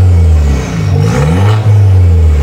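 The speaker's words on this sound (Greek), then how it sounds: "να κάνει έτσι και μια γκαζιά, να ξυπνήσουν οι άλλοι μέσα" A BMW car engine revs loudly close by, rising and falling in a deep sustained roar over about two seconds, heard without speech.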